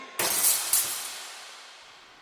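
Shop windows are smashed in a burst of shattering glass, with two sharp crashes close together and then a long tail of tinkling shards that slowly fades.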